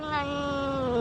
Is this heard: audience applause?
no